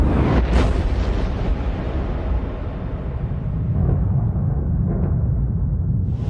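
A deep, rumbling explosion roars and then slowly fades, its hiss and boom dying away over several seconds with no voices.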